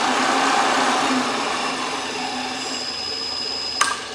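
A Chevalier 3 HP 9" x 48" vertical milling machine motor runs steadily with a broad, even whir and a faint high whine, and a short sharp click comes near the end.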